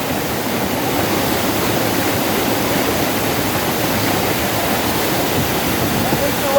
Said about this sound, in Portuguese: Presidente Figueiredo aqui, a Cachoeira da Santa